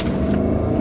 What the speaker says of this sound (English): but here goes the big V8 engine.